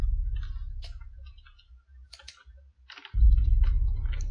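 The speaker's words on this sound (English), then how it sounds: "I really smashed my hand on the keyboard" A hand smashing down on computer keyboard keys during a horror game session, giving scattered clicks and clacks, followed by a loud, dense burst of key noise near the end.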